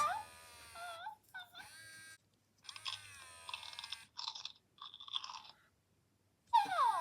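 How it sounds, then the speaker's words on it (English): Crunchy chewing on a plastic bottle comes in short bursts, mixed with whiny, squeaky noises from a Moose Toys My Really Real Puppy interactive toy, and brief silences. "he was chewing the end of the bottle"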